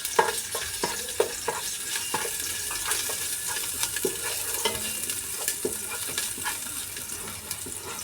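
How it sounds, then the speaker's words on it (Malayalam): Pieces of ginger and two sticks of cinnamon heat in a pan for Malaysian nasi lemak, giving a soft continuous sizzle broken by repeated scraping stirs, quiet and close. "നമുക്ക് ഇഞ്ചിയും പട്ടയും ഒന്ന് ചൂടാക്കിയെടുക്കാം"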